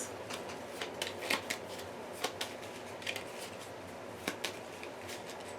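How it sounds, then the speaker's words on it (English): A deck of Marvel Champions cards is shuffled, producing quiet, repeated papery riffles and soft flicks in short uneven bursts. "And we got to shuffle On the Hunt, Dead to Rights, and Headhunter's Henchman into the deck too."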